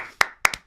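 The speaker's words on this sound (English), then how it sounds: "a round of applause for this man on my left" A small burst of hand clapping, three or four crisp, close claps in a quick uneven rhythm after a round of applause is called for at a live comedy-style chat, heard alone without talking.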